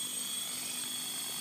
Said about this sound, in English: I'm trying to watch the helicopter